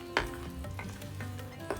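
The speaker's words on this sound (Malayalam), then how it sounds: "നമ്മൾ അരച്ച ഉള്ളിയും സവോളയും ഇഞ്ചിയും എല്ലാം കൂടാണ് മൂപ്പിക്കുന്നത്" Ground onion, shallots and ginger fry in a pan for a Kerala-style chickpea curry, giving a soft, continuous sizzle with occasional stirring scrapes, close and fairly quiet.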